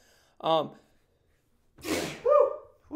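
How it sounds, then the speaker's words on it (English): A single sharp sneeze from a man on a crypto chat livestream, close and sudden, preceded by a short breathy intake and followed by a brief vocal sound. "had to sneeze there."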